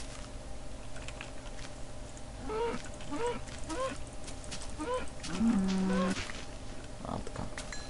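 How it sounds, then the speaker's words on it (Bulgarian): A cow in the video game Minecraft gives a run of short, clear moos at a steady pace, each moo one brief nasal call. A longer, lower moo follows, over a soft, steady background hiss. "Ай, какво става крава?"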